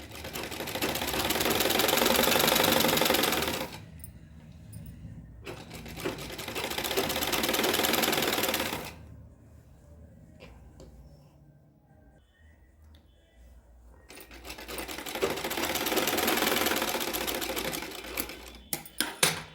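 An electric sewing machine stitches a blouse sleeve in three long bursts of rapid mechanical whirring, each a few seconds, separated by quieter pauses with faint handling sounds, close up.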